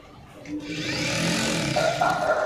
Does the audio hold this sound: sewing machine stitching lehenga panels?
yes